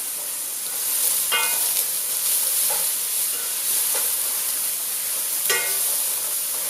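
Garlic and ginger sauté in a pan with a soft hiss of frying, broken by a few distinct stirring clinks and scrapes.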